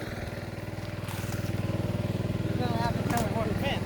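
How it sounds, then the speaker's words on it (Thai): Two water pump engines drone beside a pond they are draining, a steady, close, throbbing motor note that holds throughout, with people talking over it near the end. "เครื่องสูบน้ำสองตัวกำลังดูด"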